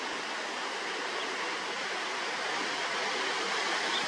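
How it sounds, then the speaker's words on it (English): The Bridalsdale waterfall, about 8 meters tall, pours in a steady, dense broadband roar of falling water, loud and constant throughout with no voices over it. "Here we are at the Bridalsdale waterfall."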